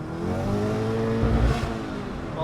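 2015 VW Golf GTI engine revving under acceleration with traction control off, a loud steady rising drone heard from inside the car, with a deeper surge midway.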